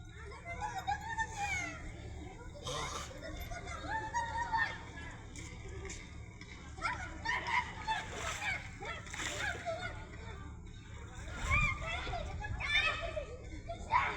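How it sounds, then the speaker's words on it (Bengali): Children splash and play in a large village pond while swimming on banana-trunk rafts, with bursts of water slosh and distant chattering voices over a steady low hum. "আর এই দিঘিতে কত সুন্দরভাবে এরা সাঁতার কাটছে কলার ভেলা করে"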